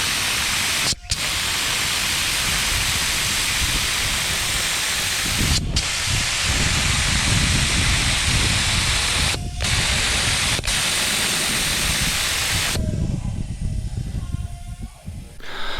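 A spray paint gun applies Ag Green paint to a utility vehicle frame, giving a loud, steady hiss that runs nearly continuously, with a few brief pauses and a rougher, thinner spray near the end.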